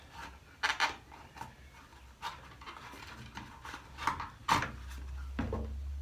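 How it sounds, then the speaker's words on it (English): A rubber gearbox shifter dust boot is worked off an extended selector shaft, making faint, irregular rubbing and scraping bursts with a low rumble near the end. "we can fully remove this dust boot, which is sitting over the extended selector shaft"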